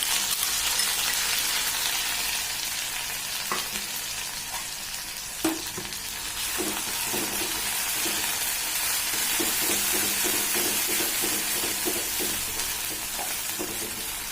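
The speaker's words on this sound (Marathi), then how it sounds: "हा लसूण ना लाल होईपर्यंत आपण तळून घेऊ" Coarsely crushed green chilli and garlic frying in oil, a long steady sizzle close by with a sharp clink and then rhythmic stirring scrapes through the second half, no speech.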